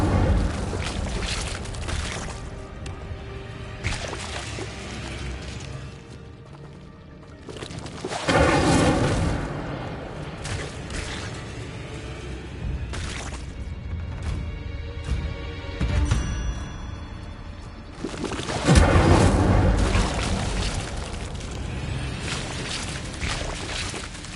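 Fire spells blast in Hogwarts Legacy, repeated booming bursts spread across a busy battle mix, with several loud surges separated by quieter rumbling stretches.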